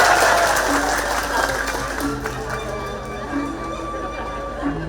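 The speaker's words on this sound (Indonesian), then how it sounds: "Tepuk tangan berbanyak-banyak." An audience at a Balinese drama gong comedy performance claps in a sustained burst that is loudest at the start and gradually fades, with voices and a tonal hum underneath.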